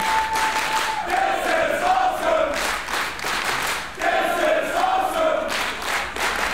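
A wrestling crowd roars through a powerbomb spot at Unlimited Wrestling's Ocean Bash 2022, a loud, continuous wall of cheering and shouting that swells in waves with no break.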